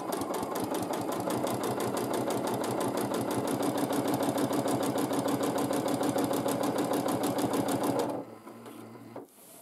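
A sewing machine running steadily for free motion quilting, a fast even needle rhythm close and loud throughout, stopping abruptly near the end with a few softer mechanical sounds.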